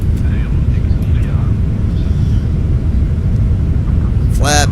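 A Boeing 777 airliner in a flight simulator roars steadily during takeoff, a loud, broad engine rumble running unbroken throughout, with a brief voice near the end.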